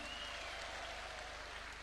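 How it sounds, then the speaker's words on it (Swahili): Audience applause welcoming the education minister at a teachers' forum in State House, Nairobi: a steady, dense wash of clapping that holds at an even level throughout. "Let's put our hands together to invite our leader in the sector, Honorable Julius Migos."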